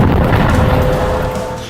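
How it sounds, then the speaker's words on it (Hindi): An anti-tank missile strikes a military post at a border, a loud deep boom that rumbles on and slowly fades. "पहले धमाका, फिर पोस्ट का बड़ा हिस्सा ढह जाता है और आग लग जाती है।"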